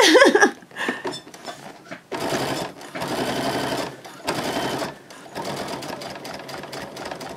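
A domestic sewing machine stitching fabric for a diaper changing bag runs in several loud, steady bursts of rapid mechanical whirring, each lasting about a second, separated by short pauses.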